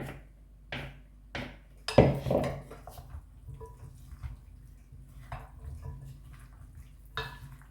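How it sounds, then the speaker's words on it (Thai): Potatoes tumble into a bowl while potato salad is made, giving a few clattering knocks of food against dishware, with one louder clunk and quieter rattles after it in a quiet kitchen. "ใส่มันฝรั่งลงไปจ้"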